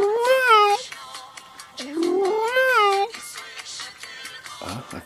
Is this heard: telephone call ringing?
no